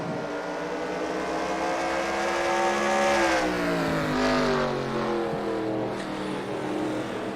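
A race car driven by Dakota Honaker at Devils Bowl, Texas, roars past at a dirt-track race, its engine note rising and then falling as it sweeps by, loud and steady with no talk over it.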